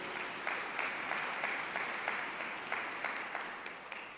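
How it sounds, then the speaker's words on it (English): Audience applause at a Sunday church gathering, steady clapping from a moderate crowd with a few sharper claps standing out, somewhat distant and lasting throughout. "let us give them another well-deserved round of applause"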